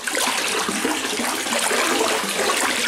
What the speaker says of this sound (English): you can give them a bit of a swirl around, make sure it melts into the water and dissolves completely